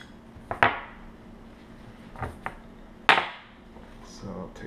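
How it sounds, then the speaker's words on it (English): Metal parts of a GHK AK-105 airsoft rifle clack and knock as the bolt is pulled out, a few sharp near taps and one louder clatter with quiet gaps between. "So I'll take out the bolt."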